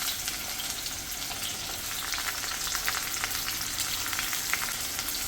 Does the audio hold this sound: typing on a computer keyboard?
no